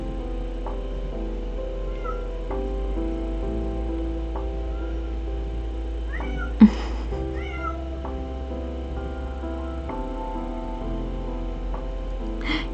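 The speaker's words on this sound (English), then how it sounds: "Can anybody hear my cat?" A pet cat meows a few times, faint and intermittent, over a steady low hum with one brief louder knock midway; no one speaks.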